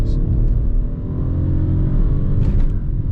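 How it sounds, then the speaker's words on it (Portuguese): A Peugeot 208 Turbo hatchback with the T200 engine, switched to sport mode, accelerates with a loud, steady engine rumble heard from inside the car. "vou até botar no modo esporte aqui, dar uma pisadinha"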